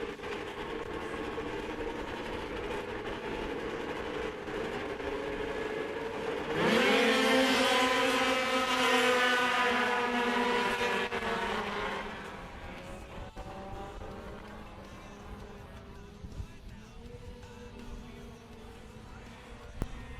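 F500 class racing boats in a junior race for 14 to 17-year-olds, their engines droning as they set off, with a high whining roar that swells sharply, holds for several seconds, then fades into a more distant buzz.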